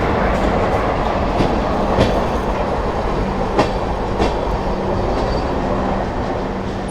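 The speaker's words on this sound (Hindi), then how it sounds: "वो देखो लोकल जा रही है, ये चर्च गेट से आता है।" A Mumbai local train from Churchgate rolls past near Khar Road station with a loud continuous rumble and rhythmic wheel clatter over rail joints, heard close and steady throughout with no voices.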